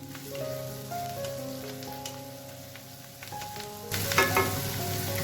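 Curry leaves fry in hot oil in a pan while sabudana khichdi is being cooked. A steady close sizzle swells into a louder, crackling burst near the end, with no talking.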